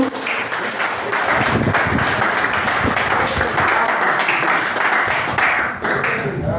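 A church congregation clapping in praise during a worship service, loud sustained rhythmic applause filling the room with steady beats, with faint voices beneath.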